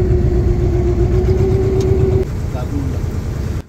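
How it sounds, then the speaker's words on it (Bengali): A fishing trawler engine runs on a river, a loud low steady chugging drone up close with a sustained whine that stops partway through, and a faint voice in the background. "বড় নদী থেকে ট্রলার ছাড়িয়ে জোয়ারে আমরা ভেতরে ঢুকে পড়ছি"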